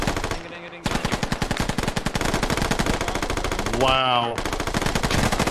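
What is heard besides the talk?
machine gun fire in a video game (Scarlet Storm campaign)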